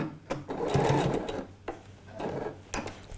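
A sewing machine runs in short bursts while backstitching a seam on trousers, with several quick stitching runs separated by brief pauses, close and moderately loud.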